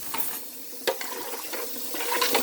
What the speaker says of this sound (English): So you put it in a pot, like so. Rinse it a couple of times.